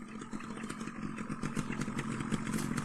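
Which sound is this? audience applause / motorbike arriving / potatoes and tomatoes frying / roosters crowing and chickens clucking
motorbike arriving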